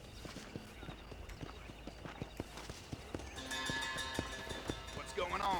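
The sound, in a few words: horse hooves clip-clopping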